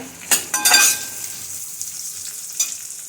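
Onion and white sesame seeds sautéing in a pan, a few sharp sizzling bursts early on, then a steady, softer frying hiss with scattered light crackles, close by and without any talk.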